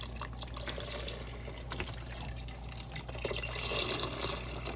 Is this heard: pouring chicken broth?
yes